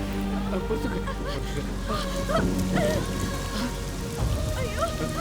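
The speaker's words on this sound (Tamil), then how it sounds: "ஐயோ, மழை வர மாதிரி இருக்கு." Steady rain falls in an outdoor spot near a temple, a constant hiss filling the background while people talk over it and a faint honk or rumble sounds briefly.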